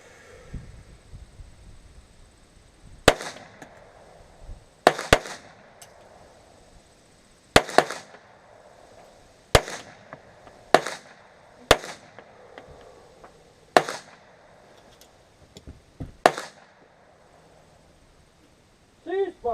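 Nine sharp gunshots ring out one at a time at a shooting range, each a few seconds apart, loud and close against a quiet background, with a faint voice at the very end.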